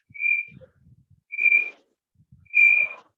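A remote participant whistles into an open microphone during an online class, giving three short, clear, steady whistle tones spaced about a second apart, with faint rustling between them.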